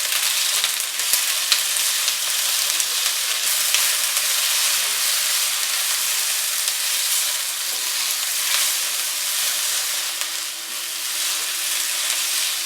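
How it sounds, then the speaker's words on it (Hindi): Tomatoes and green chillies frying in a pan with onions, giving a loud, continuous sizzle and hiss that stays steady throughout with no talking. "टमाटर और हरी मिर्च भी फ्राई हो चुकी है।"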